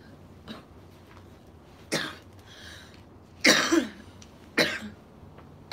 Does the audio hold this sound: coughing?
yes